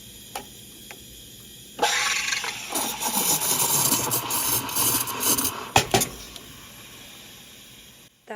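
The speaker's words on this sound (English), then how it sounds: "That is the sound you're looking for if you're trying to make cappuccino milk" Milk being steamed with an espresso machine's steam wand for cappuccino foam: a steady broadband hiss and roar begins abruptly, holds loud for several seconds with gurgling texture, then cuts off, with no talking.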